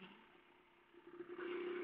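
A 1969 Jawa 250 592 Panelka motorcycle rides through city traffic, its small engine droning steadily and then rising in a louder rev as the bike accelerates.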